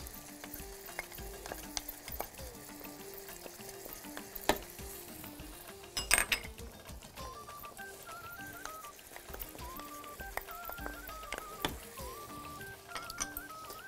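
Onion, onion powder and garlic sizzle in a hot pan, a steady low crackle broken by scattered clicks and scrapes of stirring.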